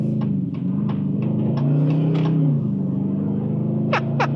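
The 5.7-litre V8 of a 2023 Dodge Challenger R/T Plus drones with a deep, steady rumble while driving in traffic, rising slightly in pitch, with faint clicks and ticks over the top.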